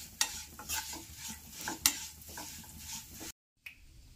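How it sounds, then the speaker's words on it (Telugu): Vermicelli stir-fried in a kadai until golden, with a soft sizzle and scraping stirs from a spatula, quiet and close, no voices. "సేమియాని గోల్డెన్ కలర్ వచ్చే వరకు ఫ్రై చేసుకోవాలి"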